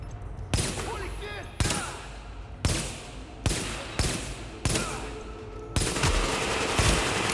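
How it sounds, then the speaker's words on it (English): Vector submachine gun in the video game The Division fires several rapid bursts, each starting with a sharp crack and rolling into a dense rattle, separated by brief pauses, with the final burst running longer, loud and close. "the Vector's got an absurd rate of fire"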